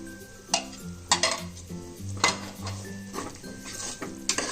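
A spoon stirs curd into mushroom biryani masala in a metal pan, making close, rhythmic scraping strokes about once a second, with light clinks and a soft wet sizzle between them.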